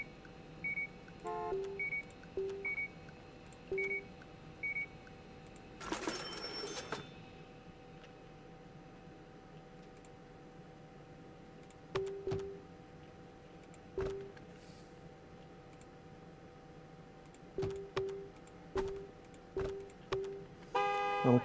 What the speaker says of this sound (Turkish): Neyin kornasını çalıyorsun?